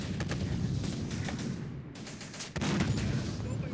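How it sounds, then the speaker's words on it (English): Relentless enemy mortar bombardment in the war game Syrian Warfare, dense booms and gunfire rolling on continuously with a brief lull midway before the barrage resumes at full force. "we've got enemy mortars for sure"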